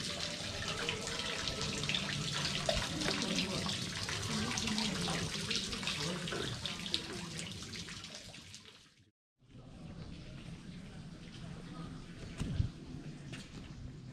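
Water in a city water feature in Chester, England, runs with a steady splashing hiss, broken by a brief silence before resuming, heard fairly close under faint ambient sound.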